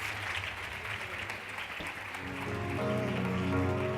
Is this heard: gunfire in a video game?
no